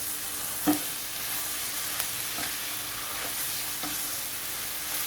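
Chinese kale being stir-fried in a pan for stir-fried instant noodles, giving a steady sizzling hiss with a few soft stirring knocks, close and continuous, with no voices.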